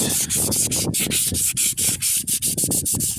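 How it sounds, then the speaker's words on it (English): Steady hand sanding with 120-grit sandpaper on a boat swim platform repair, rough back-and-forth scraping strokes repeating quickly and loudly, with no voices. "It's basically the last bit of sanding on this."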